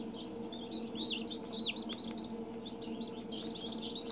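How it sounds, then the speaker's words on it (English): Rapid, high chirps from chicks repeat continuously over a steady low background hum, fairly close and moderately loud. "when other chicks is on the outside chirping"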